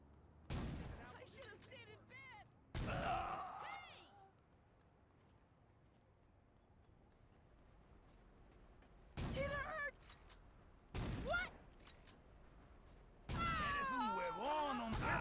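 Gunfire in the video game Saints Row (2006) comes in loud, dense bursts separated by quieter stretches, with shouted voices and game sounds mixed between the shots.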